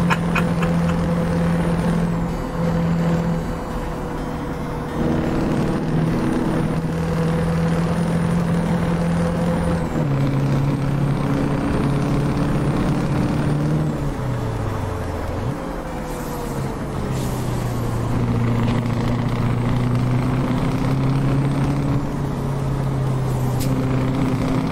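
Ahead of a run of loud gear changes, a heavy truck engine in Euro Truck Simulator 2 with ProMods drones steadily, its pitch stepping up and down with each shift as a hiss of air runs beneath, heard alone and close throughout.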